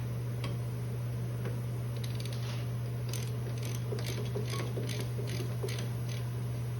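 Ratcheting wrench clicks tightening 13 mm rear brake bolts on a 2003 Pontiac Grand Am, a run of small close mechanical ticks and creaks over a steady low hum.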